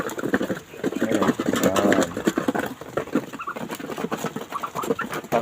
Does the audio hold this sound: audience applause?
no